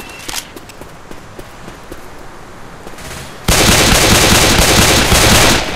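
Gunfire in the zombie shooter Left 4 Dead 2 crackles in scattered sharp shots, then bursts into a loud, dense, sustained roar of automatic fire for the last couple of seconds.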